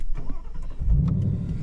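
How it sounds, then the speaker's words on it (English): A Ford Mustang engine starts up close by, with a brief cranking followed by a steady, loud low idle rumble. "let me go ahead and just start up my car"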